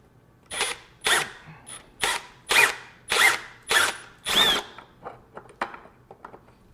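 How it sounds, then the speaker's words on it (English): A power drill whirs in a series of short bursts, about seven pulses, followed by several smaller clicks and taps, close and fairly loud. "we'll drill this all the way through"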